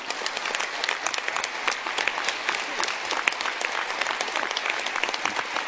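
Crowd at a microcredit summit closing ceremony applauds in a big sustained round, many hands clapping densely and evenly from start to finish.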